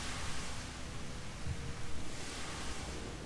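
A water spell cast in the Magicka video game gives a steady, rushing, hiss-like spray with no pauses, even and fairly loud throughout.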